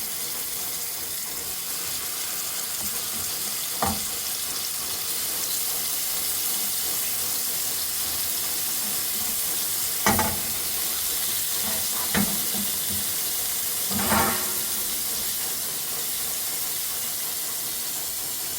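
Beef kebabs fry slowly in a little oil over low heat, giving a steady soft sizzle and hiss throughout, broken by a few brief louder spits and pops.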